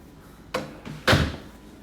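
Large pivot doors in an apartment at Kangaroo Point swing shut, giving two close thuds: a softer knock, then a heavier, louder slam about half a second later, in an otherwise quiet room.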